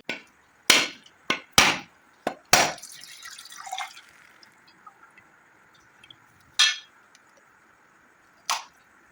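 A coconut being cracked open with sharp, hard knocks: a cluster of five or six quick strikes, then two more spaced blows, each followed by a faint trickle of liquid, close and without talk.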